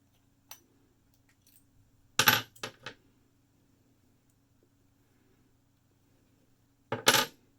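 Small metallic clicks and a few brief rattling bursts as a Rockwell 6C safety razor's baseplate is swapped and tightened, with two short clusters of sharp clinks separated by quiet.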